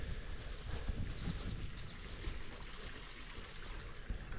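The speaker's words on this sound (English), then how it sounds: "You got a nice little creek running through here." A small creek flowing through farmland woods makes a faint, steady rushing murmur of water, with soft wind noise mixed in and no voices.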